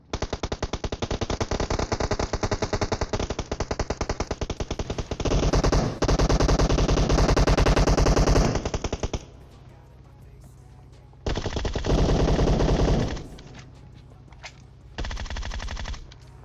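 Bursts of AKM assault rifle fire in the shooter game PUBG Mobile, with rapid automatic volleys that are loud and near, broken up by short pauses and quieter gaps, and no talking.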